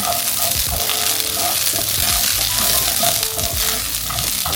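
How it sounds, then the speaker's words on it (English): Brussels sprouts frying in olive oil in a pot, a steady loud sizzle with crackling spatter and stirring clatter, close up and continuous, no talking. "So then I'm gonna put the Brussels sprouts in the same pot. Let it coat with the olive oil."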